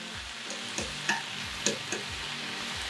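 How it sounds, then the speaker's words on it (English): Sandwich meats for a Jersey Mike's Hot Italian frying on a griddle, a constant close sizzle broken by several spatula scrapes and light clacks as the pieces are turned, with no talking. "I kind of want to get it all individually cooked up here"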